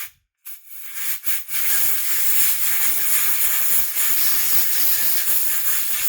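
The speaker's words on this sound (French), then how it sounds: "Je vais juste passer un petit coup de soufflette." A compressed-air blow gun cleans brake caliper parts: a couple of short bursts, then a loud, steady hiss of air held for several seconds, close by.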